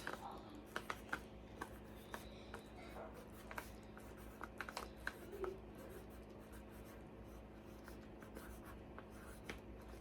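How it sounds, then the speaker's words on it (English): A pen handwriting a customer's address onto a shipping package, faint scratchy strokes and small taps repeating irregularly in a quiet room with a low background hum. "You're going to then write your customer's address."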